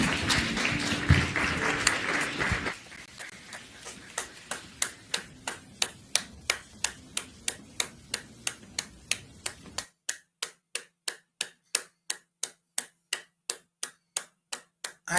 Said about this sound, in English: I can't stop clapping.